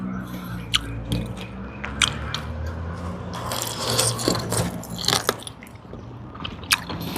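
Someone chews and tears boiled pork with their teeth during outdoor cooking, giving wet crunchy bites and clicks in an irregular rhythm, close to the mic, with no talk.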